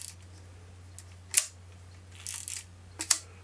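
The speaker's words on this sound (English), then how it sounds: "the shutter doesn't appear to want to cock, so as I wind it on" Winding on a film camera whose shutter won't cock, giving a few short mechanical clicks and ratcheting scrapes, close and quiet over a faint steady hum.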